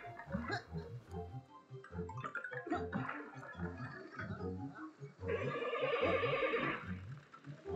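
A skeleton horse in Super Mario 3D Land lets out a loud, drawn-out whinny partway through, rising over a busy bed of game music and effects.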